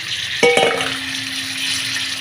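Washed gourd pieces dropped into hot oil, a brief clatter as they land, then a steady close sizzle of frying that continues on its own.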